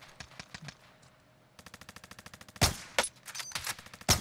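Gunfire in Call of Duty Warzone: a steady rapid burst of automatic fire at moderate distance, then several louder, closer heavy shots, with no talk over it.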